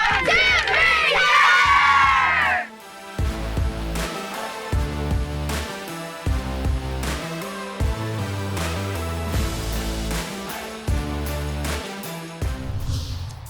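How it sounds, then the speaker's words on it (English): A field hockey team gives a short, loud group shout to end practice, a burst of raised voices lasting a couple of seconds before music takes over for the rest. "the best way to end a field hockey practice is a cheer"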